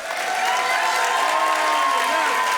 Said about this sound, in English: So, quick picture, if you can all cheer.